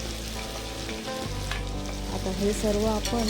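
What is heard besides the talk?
whole spices, garlic and ginger frying in oil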